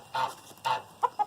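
An Araucana hen in a breeding pen clucks softly, two longer clucks followed by two short quick ones, fairly faint and close, with no talking.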